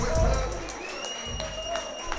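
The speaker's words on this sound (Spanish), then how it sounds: "Un fuerte aplauso para los dos." A fight crowd at a WOWfc mixed martial arts event applauds the two fighters with steady clapping and scattered cheers, while voices carry over the top for a couple of seconds.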